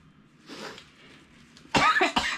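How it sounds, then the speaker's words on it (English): A quiet muffled sound, then two harsh, loud coughs close by, the second shorter than the first. "Here I go coughing again."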